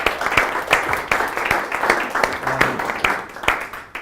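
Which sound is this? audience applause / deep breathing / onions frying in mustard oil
audience applause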